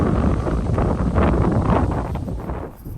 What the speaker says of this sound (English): It'd be nice to stop so I can put on my beanie and get out of this wind.